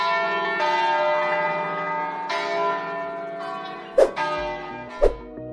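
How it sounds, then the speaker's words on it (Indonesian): A church bell rings with long, sustained metallic tones that decay and overlap, struck again partway through, with two brief sharp knocks near the end. "dalam tradisi Kristen juga, bunyi lonceng dipercaya bisa mengusir setan"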